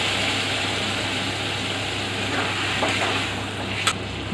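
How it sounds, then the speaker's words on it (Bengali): Drumsticks cook in a mustard sauce with a little water added. A continuous soft sizzle and bubbling fill the pan, with a faint clink near the end. "এবার আমি অল্প জল দিয়ে আরো একটু সময় সরষে নেব।"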